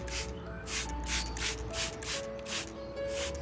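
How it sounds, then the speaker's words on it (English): A spray bottle mists an orchid plant in a steady series of about eight short, soft hissing puffs, evenly spaced and close by, with a low background hum and no talking. "Don't forget to mist the plant lightly too."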